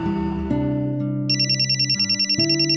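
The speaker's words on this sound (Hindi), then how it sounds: "तुम्हारा फोन बज रहा है।" A phone ringtone plays, starting as a low sustained tone and switching to a bright, rapidly pulsing electronic ring that repeats steadily and loudly.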